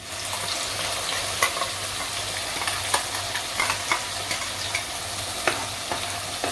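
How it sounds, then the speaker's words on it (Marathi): Green masala paste sautéing in oil with turmeric, a steady close sizzle and frying hiss with occasional sharp pops and spoon scrapes, no voices. "एखादा मिनिट आपण परतून घेऊया वाटण हे"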